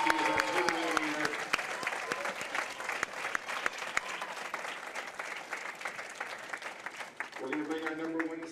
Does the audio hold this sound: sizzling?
no